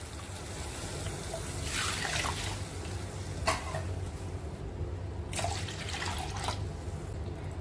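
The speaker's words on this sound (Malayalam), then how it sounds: "അതിലേക്ക് 2 കപ്പ് പാലും 1 കപ്പ് വെള്ളവും ഒഴിച്ചിട്ട്" Milk and water are poured into a pan of roasted vermicelli for a sweet milky porridge, a soft steady liquid splashing and trickling with a couple of brighter bursts of pouring, close and without speech.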